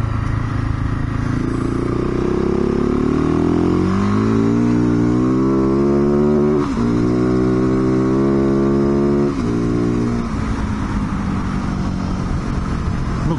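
A 2019 dirt bike being ridden on the road, its engine loud and close as it revs up through the gears with rising pitch, pausing at each shift, over steady wind noise.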